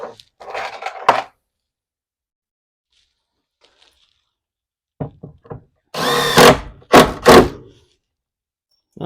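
A power drill drives screws into shed cabinets in short bursts: a brief whir at the start, a long silence, then several quick pulses and two louder whining runs near the end.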